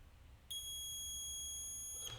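A multimeter set for continuity gives a steady, shrill electronic beep when its red and black test lead tips touch. The tone starts abruptly, holds for about a second and a half, then cuts off over a low background hum.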